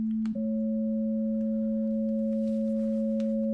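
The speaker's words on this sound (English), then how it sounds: "a 550 hertz sine wave" Two steady pure sine tones sound together, one at 550 hertz, holding a constant pitch pair throughout with no other sound beyond a faint click at the start.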